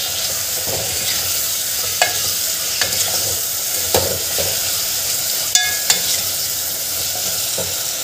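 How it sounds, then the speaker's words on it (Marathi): Spinach stirred into Vidarbha-style dal bhaji in a pan, with a continuous sizzling hiss and scattered scraping clicks from the spoon against the pan. "आता याला छान मिक्स करून घ्यायचं आहे।"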